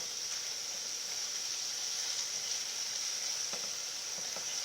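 Round steak sizzles and fries steadily in a pan for Cajun gravy, a constant bright hiss with faint crackles and a few soft pops, moderately quiet and without any talk.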